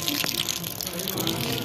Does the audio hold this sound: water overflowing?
yes